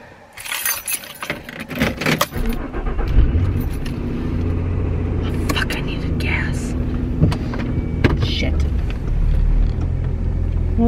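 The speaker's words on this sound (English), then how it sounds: "kind of need those to start the truck" Keys jingle loudly near at hand, and then a truck engine cranks and settles into a steady idle rumble inside the cab, with a person speaking quietly over it.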